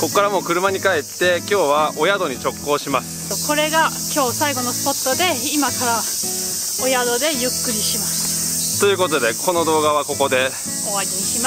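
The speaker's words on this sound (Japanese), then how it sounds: "セミの鳴き声すごいね。" Cicadas droning in summer near the seaside, a continuous high buzzing that runs under people talking in Japanese the whole time.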